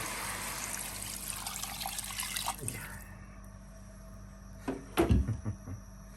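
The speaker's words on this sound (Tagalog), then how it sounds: "Lagyan natin yung tubig galing sa gripo." Tap water runs steadily into a pot for a few seconds, then stops, followed by a few clunks and knocks of the pot being handled nearby.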